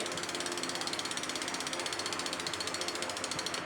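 Rapid, even clicking of a bicycle's full-bearing rear hub freewheel with cassette spinning, a steady, fairly quiet ratchet buzz of fine ticks close up with no talking.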